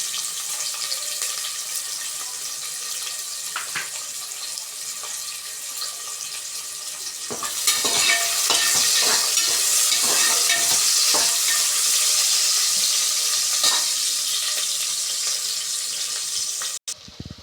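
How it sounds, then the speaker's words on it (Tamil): Chopped onions hit hot oil in a pan with whole spices for brinji rice, sizzling loudly after a quieter start and frying steadily with occasional stirring scrapes up close. "இப்போது கட் பண்ணி வச்சிருந்த வெங்காயத்தை போட்டுடலாம்"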